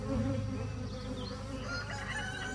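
Honeybees hum steadily at a hive, a dense, continuous buzz close by with no pauses and no voices.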